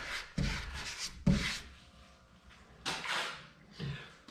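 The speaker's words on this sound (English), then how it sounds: "So we'll have to sand that out." Close, dry rubbing strokes of sandpaper smoothing hot glue off a small lighthouse model come in short bursts separated by quiet pauses.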